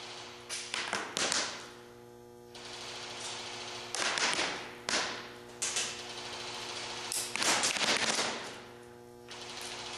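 A Magpul PTS airsoft gun empties a whole magazine at heavy cardboard, with rapid bursts of sharp clattering shots separated by short pauses, close to the microphone and without talk.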